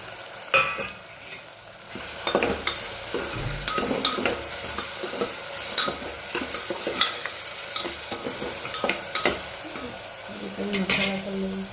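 Bottle gourd sizzling in a pan while a spatula stirs it, with a steady frying hiss under repeated scraping strokes and occasional clinks against the pan, close up.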